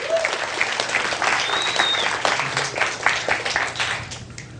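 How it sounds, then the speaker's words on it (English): Audience applause for a volunteer at a hypnosis seminar, a full room clapping steadily and loudly throughout, with a voice briefly audible beneath the ovation. "give her a round of applause, folks"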